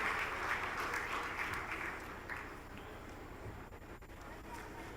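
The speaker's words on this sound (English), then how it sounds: "he deserves a round of applause as he makes his way to the podium" Applause at a Nigeria-EU business forum greets the opening panel's moderator on his way to the podium, loud at first and then thinning and fading as the clapping dies away.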